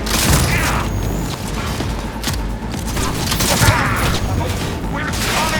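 Heavy gunfire in Cyberpunk 2077, a dense, continuous barrage of shots and booming impacts with combat voices shouting under the noise.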